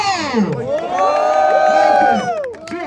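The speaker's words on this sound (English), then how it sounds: "let's all cheer for both of them one more time" A crowd at an arm wrestling competition during a sports meet cheers and whoops loudly, many voices rising together in sustained, pitched shouting for nearly three seconds before tapering off.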